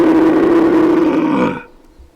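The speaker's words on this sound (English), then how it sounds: "we usually try and roar the stags in" A red deer stag roars during the rut, a loud, sustained guttural bellow lasting well over a second before cutting off abruptly, close by and alone.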